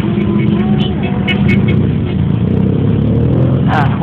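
A motorcycle engine revs through a few rising pulls outdoors, its rough drone continuous under nearby voices and a little clatter.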